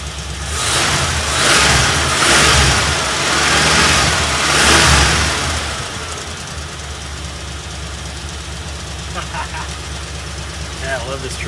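A Ford F100 pickup engine running after a new gas tank install, revving in a few loud swells then settling into a steady idle, with a voice speaking over it near the end.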